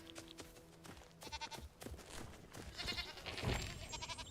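Goats bleat repeatedly in a farm area of the video game Enshrouded, with several overlapping wavering calls that grow louder toward the end over a soft ambient game background.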